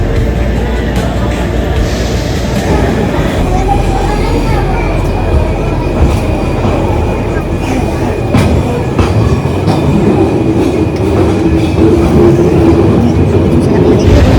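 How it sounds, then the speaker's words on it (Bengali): A train rolls into Kharagpur station on an overnight journey, a loud, continuous rumble with rhythmic wheel clatter and occasional squeals, with voices murmuring underneath. "আমাদের ট্রেন পৌঁছে গেছে খড়গপুর স্টেশনে।"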